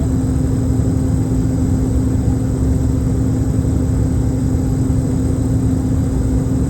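A big truck engine labours steadily uphill at about 1400 rpm and 42 km/h, with the cooling fan running, giving a loud, continuous low drone with a steady hum and no voices in the Adelaide hills.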